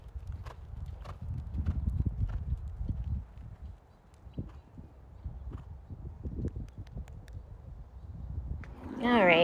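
A ridden horse walking while cooling out after a training session, hooves clip-clopping in a steady, uneven rhythm close by, with a snort or brief vocal sound near the end.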